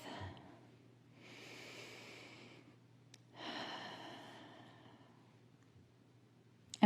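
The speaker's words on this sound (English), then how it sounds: "Take a deep breath" Two long, slow breaths are taken close by, a deep inhale followed by a drawn-out exhale, soft and airy against a low steady hum.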